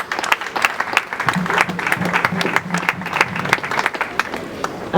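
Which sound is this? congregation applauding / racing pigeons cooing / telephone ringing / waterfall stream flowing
congregation applauding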